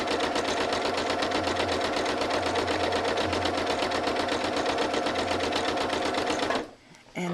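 Domestic sewing machine quilting stitches through Hometown Girl cotton fabric, running as a fast, steady mechanical whir with rapid needle ticking for about six and a half seconds, then stopping abruptly.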